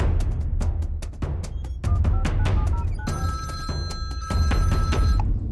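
A telephone rings in repeated bursts with steady electronic tones, clear and close, over a busy background with sharp knocks and clatter.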